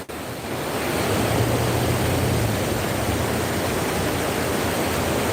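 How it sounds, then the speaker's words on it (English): A steady, broadband rush of water flowing smoothly over rocks in an outdoor stream, constant and fairly close, swelling in quickly at the start and holding even throughout with no voices. "I like how that water's smooth coming over those rocks."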